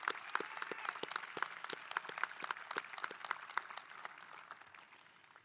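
Applause from the audience at a graduation commencement ceremony for a collegiate academy: a steady, moderately faint patter of many hands clapping together, continuing throughout and gradually fading toward the end.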